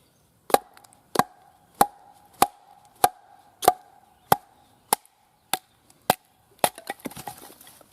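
A Fallkniven Bowie knife striking wood to split it outdoors, about ten sharp, evenly spaced chopping knocks, close and clear, ending in a rustle of splintering wood.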